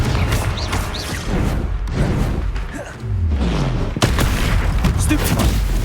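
Confringo blasting spells in the video game Hogwarts Legacy, a series of loud booming explosions and impacts amid combat noise, with a brief voice calling out.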